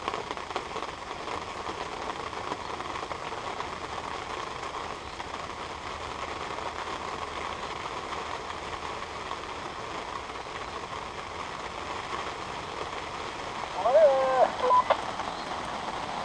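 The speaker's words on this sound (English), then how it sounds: "As you can hear, it's raining." Steady rain falling at a carp fishing lake in France in May, a constant broadband hiss of drops throughout, with a brief louder patch of handling near the end and no talk.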